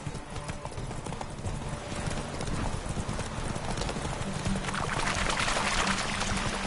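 A horse gallops in The Witcher 3 video game, its hooves beating a fast, steady clip-clop over continuous outdoor ambience, with a brief faint voice.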